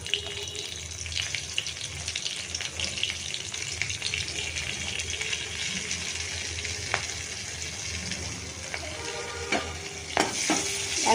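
Hilsa fish fries in hot oil with slit green chilies, turmeric and Kashmiri chili powder, alongside eggplant and nigella seed tempering, in a steady close sizzle with occasional stirring clatter.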